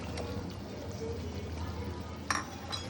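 Dissolved amla (gooseberry) water poured into chicken cooking in a pot, a soft continuous liquid pour over low cooking noise, with a brief clink of a utensil near the end.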